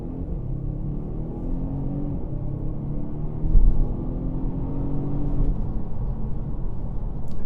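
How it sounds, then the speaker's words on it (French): A Volvo S60 T8 Polestar Engineered pulls away from a standstill in a 0-100 km/h run, its engine and drivetrain droning in a steady rumble that rises in pitch. A brief thump comes midway, and the noise stays continuous throughout. "On va essayer de faire une petite accélération au 0-100."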